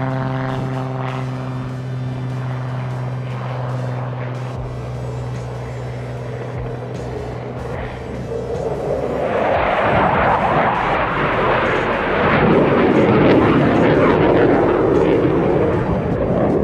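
A T-6 propeller aircraft takes off at Oshkosh AirVenture, its engine note building from a steady drone into a loud, broad roar that rises and holds near the end, with no talk over it.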